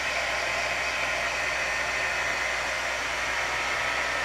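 Hair dryer blowing steadily at close range, a constant even rush of airflow with a faint motor hum underneath and no pauses.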